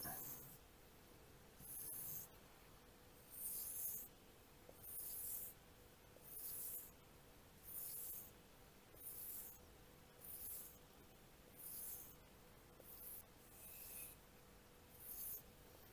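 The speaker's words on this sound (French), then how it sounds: "Couteau à plat, on fait comme si on coupait le cuir." A knife blade is drawn flat across a leather strop, producing soft, quiet rasping strokes, about a dozen in a slow, regular back-and-forth rhythm, with no one speaking.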